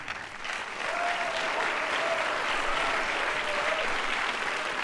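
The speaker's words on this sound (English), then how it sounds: "Please give a warm applause to Gabriel Shipton, the producer of ITHAKA." Steady applause from an audience at a human rights film festival fills the room, sustained and even, with a faint tone running beneath it.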